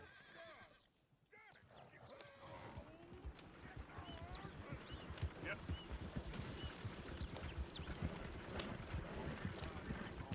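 Horse hooves clip-clopping in Red Dead Redemption 2, a steady quick rhythm of hoofbeats with a neigh, while game characters talk over the scene.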